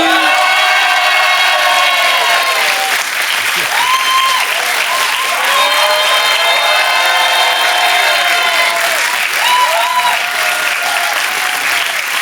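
French television studio audience cheering and applauding on cue, a dense continuous roar of clapping with whoops and shouts throughout, loud and close, with no pauses.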